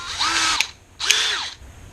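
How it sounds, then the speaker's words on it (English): A compact electric drill bores a hole for a bushing screw on an ILCA Laser sailboat, two short whining bursts of the motor, each spinning up and winding down, close and alone. "just electric drill"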